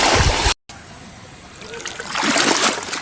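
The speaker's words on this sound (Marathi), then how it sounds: "मित्रांनो सध्या मी ही रिवर क्रॉसिंग करत चाललेलो आहे" Water splashes loudly as someone wades across a river on a trek to Belwadi waterfall, then after a brief cut the flow softens to a lighter trickle that swells again toward the end.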